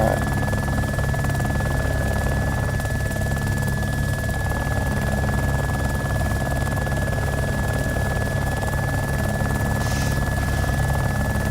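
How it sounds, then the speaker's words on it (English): A Little Bird helicopter in a video game flies with a constant, loud rotor drone and engine whine, steady throughout with no voices over it. "How much did this helicopter cost?"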